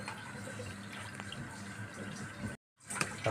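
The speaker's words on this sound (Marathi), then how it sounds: "गरम केलेलं पाणी टाकून घेऊया" Hot water is poured into mashed pav bhaji vegetables in a pan, making a soft, steady liquid trickle and bubbling that stops abruptly near the end, then resumes briefly; quiet, with no voices.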